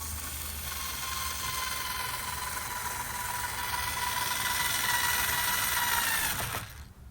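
A power driver whirs steadily, driving screws into a gazebo frame during assembly, the motor hum building slightly before cutting off abruptly near the end.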